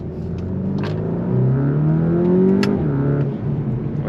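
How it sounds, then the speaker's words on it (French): A 300-horsepower Volkswagen T-Roc R with a DSG gearbox and four-wheel drive accelerates hard, engine tone climbing through a gear change, with a couple of light exhaust pops, loud and close from inside the car. "surtout avec cette boîte DSG. On a des légers pops au niveau des échappements à l'arrière."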